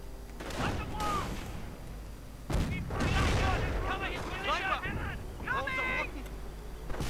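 Bursts of gunfire and heavy booms from a World War II video game battle, with voices talking over the steady din of combat.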